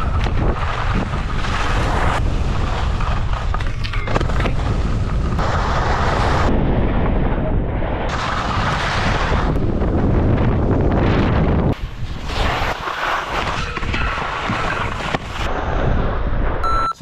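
Strong wind roars steadily against the microphone, loud and buffeting throughout, with gusts rising and falling and no talking.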